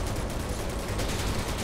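Steady, dense gunfire from shooting crates in Final Fantasy VII Remake, a continuous rattling burst that runs unbroken at a consistent loud level, with no talking.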